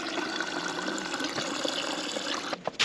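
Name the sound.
water dispensing from LG refrigerator to flush new water filter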